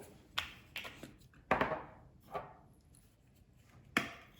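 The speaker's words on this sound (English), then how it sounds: "Cracking some pepper" Several sharp, quiet cracks from a pepper grinder, spaced irregularly and close up, with short gaps of near silence and no voices.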